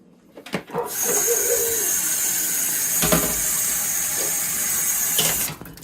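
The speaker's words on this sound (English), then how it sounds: "Let that water drip off in there." Water runs and drips steadily off food into a crock pot during a basic eight-hour slow-cooker dinner preparation, a continuous close splashing stream lasting several seconds before stopping abruptly.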